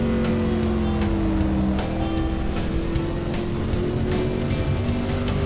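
A race car engine in the Assetto Corsa racing game drones loudly and steadily at high revs, a constant buzzing whine with slight pitch shifts through gear and throttle changes, with no talk over it.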